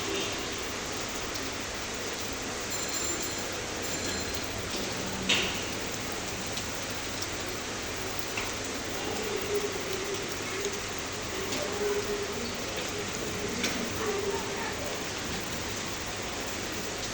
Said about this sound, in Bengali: অঝোর দ্বারায় বৃষ্টি ঝরছে রিমঝিম রিমঝিম